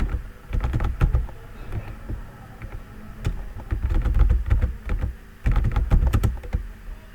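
Typing on a computer keyboard while writing Excel VBA code: bursts of quick, close clicking keystrokes separated by short pauses, with no talk.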